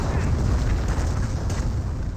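Artillery barrage in the Company of Heroes video game: a dense, continuous roar of heavy explosions rumbling together, loud and close, with no clear gaps between blasts.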